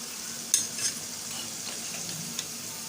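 Aloo pakora drumsticks fry in hot oil with a steady soft sizzle, broken by a couple of sharp metal taps and scrapes of stirring, with no voices.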